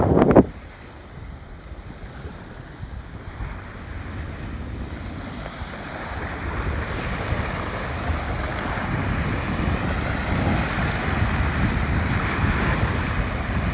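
Sea waves roll in at high tide at Tajpur beach near a river mouth, a continuous broad roar of surf that swells gradually, heavily mixed with wind buffeting the microphone after an opening thump.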